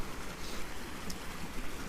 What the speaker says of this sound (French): je passe à côté d'un ruisseau et j'entends le flow de l'eau